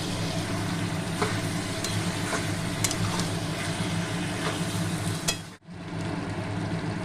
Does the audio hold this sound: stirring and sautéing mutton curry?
yes